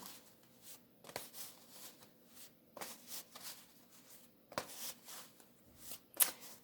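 Oracle cards are shuffled and dealt onto a table, with soft intermittent riffles, slides and taps spaced over several seconds, quiet and close with no talking.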